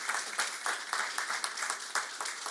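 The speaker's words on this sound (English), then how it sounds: "How about a nice round of applause for Mrs. Bowman?" A small crowd applauds steadily, brisk overlapping claps throughout with no talking.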